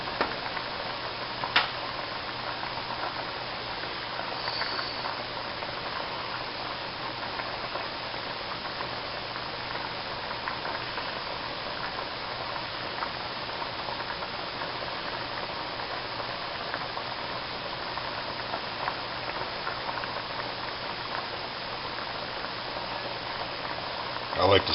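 A pot of pasta water boils on a stove, giving a steady, hissing bubble with faint ticking, continuous throughout as a person talks over it.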